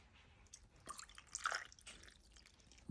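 Water is poured onto paper during a new moon ritual, giving faint, soft drips and trickles in short bursts with a wetter splash near the middle, recorded close in a quiet room.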